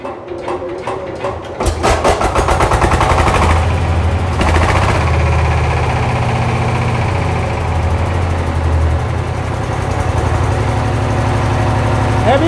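A Sifang 20 hp diesel power tiller engine cranks with a few sharp bangs, then settles into a loud, close, heavy low-pitched chugging idle that runs steadily to the end.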